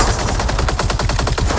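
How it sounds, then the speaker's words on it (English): Rapid automatic gunfire from a Mortal Kombat 11 cutscene, a loud continuous rattle of closely spaced shots filling the whole moment. "So they were able to shoot the mirror when both Johnnies are taking cover"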